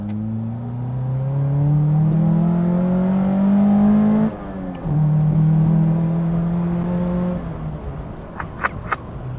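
A car engine revs up and accelerates with a rising drone, shifts gear, then climbs again before easing off; loud and close, no speech.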